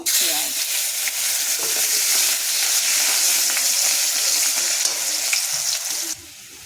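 Bay leaf, dried chili and whole cumin sizzle in hot oil for a Bengali fish-head curry, giving a loud, steady, bright frying hiss with a few soft spatters. No voice is heard.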